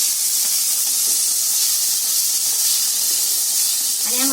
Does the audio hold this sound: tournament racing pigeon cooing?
no